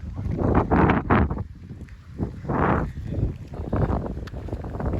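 Strong gusts of wind with rain near a berry farm in Sweden roar and buffet the microphone in loud, uneven surges, rising and falling over several seconds with no talk.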